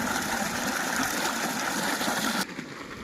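Water gushes from an irrigation motor pump beside a wheat field, a loud, close, continuous rushing flow that drops noticeably in level near the end.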